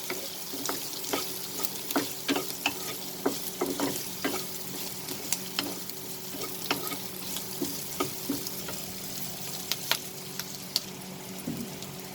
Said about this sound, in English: We'll saute this over medium flame till our onions become slightly translucent.